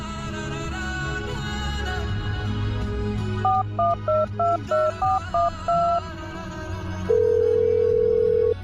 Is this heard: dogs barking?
no